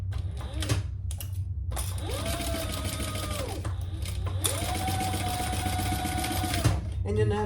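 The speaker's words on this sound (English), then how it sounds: "I'm just going to bring that around and do some chain stitching." A sewing machine chain stitching a crossbody bag runs in two long steady bursts, its motor whine rising and holding, with short pauses and handling noise between runs.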